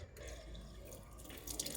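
Cold water running and splashing during a bath, a soft continuous trickle with light dripping and a few brighter splashes near the end, quiet and close.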